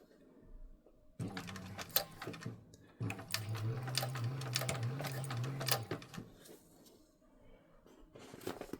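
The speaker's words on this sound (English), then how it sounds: "And then we're going to go ahead and stitch that. Back stitching in the beginning and the end." Sewing machine stitching a bag lining seam with back stitching at the start and end: a short burst, a pause, then a longer steady run of rapid needle clatter, close and moderately loud.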